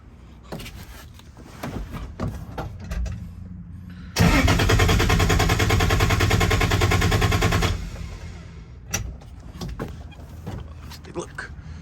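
A Toyota 2JZ engine cranks during a compression test, the starter churning loudly and rhythmically for about three and a half seconds before cutting off, with people talking before and after.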